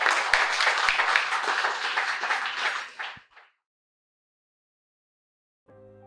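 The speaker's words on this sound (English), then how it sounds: "Give them a big round of applause" Applause for a robotics team at an event, a burst of dense clapping for about three seconds that cuts off abruptly into silence, with a short electronic tone at the end.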